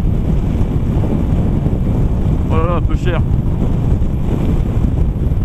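Loud, constant wind roar buffeting the microphone throughout while riding a 2018 Piaggio Vespa 300cc scooter near top speed, with a brief spoken remark partway through.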